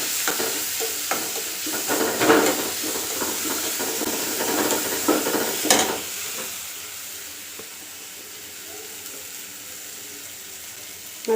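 Cumin and ginger frying in a pan for poha, a bright sizzle with stirring scrapes and clinks up front that settles into a softer, steady hiss, no voices.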